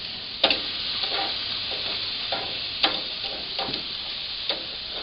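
Flanken-cut short ribs sizzle steadily in a hot pan, a soft continuous frying hiss with occasional sharp pops and spits, nearby and without talk.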